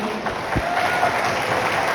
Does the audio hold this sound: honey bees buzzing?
no